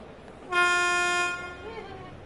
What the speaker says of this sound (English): I'm driving this little ScotRail train